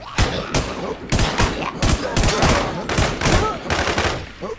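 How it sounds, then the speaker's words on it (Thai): Loud, close gunfire from a shooter game comes in about nine sharp bursts at a fairly regular rhythm, like rapid rifle volleys. Brief gaps fall between the bursts, and faint voices are possible underneath. "มันยิงเราไม่เลิกเลยอะ"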